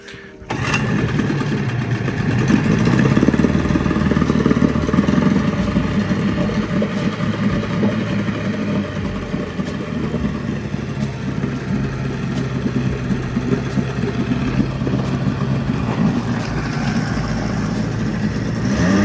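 A small, clean two-stroke 20 horsepower outboard on a 12-foot mini bass boat pulls to a start, then settles into a steady, buzzy near running drone for a long stretch with slight rises and dips.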